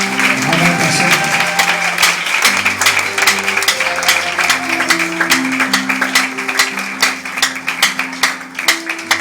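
A church congregation applauds in acclaim of God with dense, continuous clapping, rhythmic in places, and a few voices mixed in throughout.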